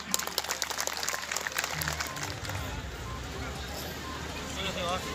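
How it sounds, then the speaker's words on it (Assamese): Audience at an outdoor festival gathering in Bilasipara, Assam, applauding to thank a guest; dense, steady clapping from a sizable crowd, fairly loud and sustained throughout with no talk over it. "এখেতক আপোনালোকে তালি বজাই এটা ধন্যবাদ দিবৰ কাৰণে মই অনুৰোধ"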